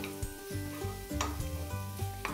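Onion and mixed masala sizzle in a pan for a mutton frankie as a spoon stirs with steady, rhythmic scrapes, the hiss loud and close throughout with no voices.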